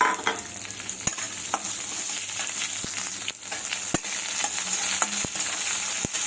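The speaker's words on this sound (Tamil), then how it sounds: "அதுக்கப்புறம் வெங்காயம், ஒரு பெரிய வெங்காயம் நறுக்கி வச்சுருக்கேன், அதையும் போட்டுப்போம்." Chopped large onion frying in a pan, a steady sizzle with sharp intermittent clicks of a spoon stirring against the pan, close and continuous.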